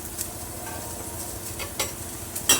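Ghol fish curry with onion, tomato and coriander being stirred in a pan, soft sizzling under several distinct spoon scrapes and clinks against the metal, close by and moderately loud.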